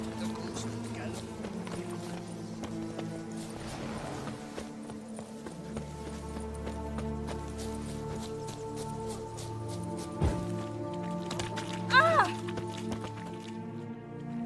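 Rhythmic hoofbeats of a horse at a gallop in The Witcher 3: Wild Hunt, steady and continuous beneath ambient music, with a brief sharp thump and a rising tone near the end.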